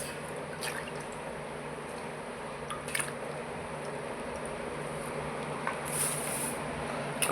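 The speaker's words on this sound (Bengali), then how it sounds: "সব কিছুই ধুয়ে দিচ্ছি, গাজর, আলু, ক্যাপসিকাম" Carrots, potatoes, capsicum and beans are washed in water, with soft splashing, dripping and squishing as the vegetables are handled, plus a few sharper knocks and a brief louder swirl near the end.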